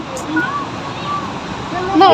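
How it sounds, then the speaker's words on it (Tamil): Water rushes at Pykara Falls near Ooty as a steady, broad roar, with voices talking over it. "நல்லா இருக்கு தண்ணி சவுண்டு"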